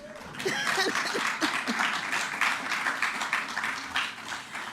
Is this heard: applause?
yes